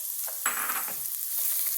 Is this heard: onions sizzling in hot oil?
yes